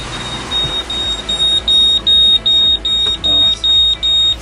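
Boat AIS dangerous target alarm sounding at sea, a repeating electronic beep in steady on-off pulses, loud over background noise, with speech in French nearby.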